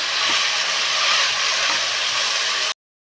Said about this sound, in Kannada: ಉಪ್ಪು ಹಾಕ್ಕೊಂಡು ನೀಟಾಗಿ ಫ್ರೈ ಮಾಡ್ಕೊಳ್ಳೋಣ.